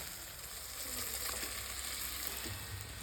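Eggs hit a pan of sizzling onion-tomato masala, which crackles with a steady, moderately loud fry throughout and has a few faint stirring clicks and no voices.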